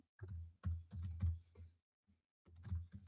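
Clicky keystrokes on a computer keyboard as a probe name is typed into calibration software, two quick bursts of close, rapid taps separated by a brief pause.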